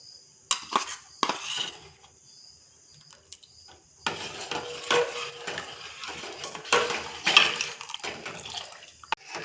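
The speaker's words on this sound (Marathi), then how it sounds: "सारखं ढवळत राहायचं आहे उकळी येईपर्यंत" A spoon stirs cashew paste gravy with melon seeds and sesame in a pot, making soft intermittent scraping and clinking strokes at close range, with quiet gaps between bursts and no talking.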